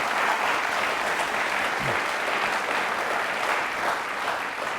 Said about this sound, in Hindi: प्लीज़ एक बार हम सबके लिए तालियां, वापस से जोरदार होनी चाहिए